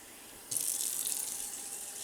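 Tap water gushes steadily into a vessel while preparing masala chai in a home kitchen, starting suddenly and running continuously at moderate loudness.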